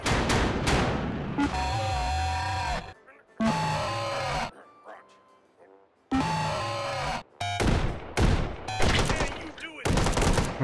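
Turret gunfire in the VR game Hot Dogs, Horseshoes & Hand Grenades: loud bursts of rapid automatic fire broken by short gaps, with speech woven between and over the shots.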